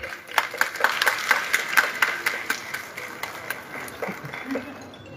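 Audience clapping at the inauguration of a new auditorium in Jharsuguda, with a crowd of hands in a steady patter that swells and then fades, heard alone and fairly close.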